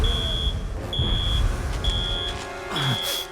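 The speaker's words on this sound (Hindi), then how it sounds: "लेकिन अलार्म क्यों ऑन है?" Alarm in an animated series, four evenly spaced high electronic beeps ringing over a low rumbling vehicle-like background, loud and close.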